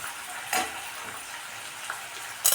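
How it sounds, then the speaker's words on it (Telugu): Garlic and ginger frying in hot oil give a soft, steady sizzle close by, broken by a few sharper bursts of crackle or stirring, with no voices. "చిన్న కట్ చేసుకున్న ఎల్లిగడ్డ ప్లస్ అల్లం కూడా ఆయిల్లో ఫ్రై కావాలండి"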